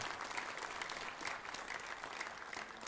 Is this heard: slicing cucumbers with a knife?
no